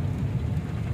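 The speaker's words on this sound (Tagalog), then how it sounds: "So, simula nung umaga, umuulan hanggang ngayon." Steady rain falls on a Sunday, a dense, continuous low rumbling wash with no breaks and no voices, loud and close throughout.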